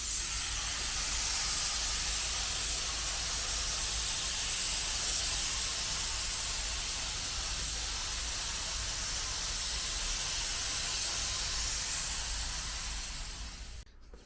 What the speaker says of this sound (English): laying down some coats of paint on the Civic